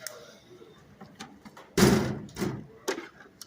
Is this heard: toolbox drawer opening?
yes